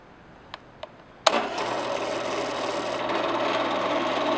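Drill press starting up on a lubricated workpiece after two sharp clicks, then a loud switch-on thump followed by a steady motor whir with scraping, rasping cutting noise, close and alone without talk.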